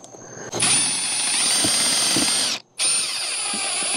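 A power drill drives screws into the seam of a metal roof, a loud steady whine running about two seconds, cutting out briefly, then resuming with a continuous high-pitched buzz, close up with no talk.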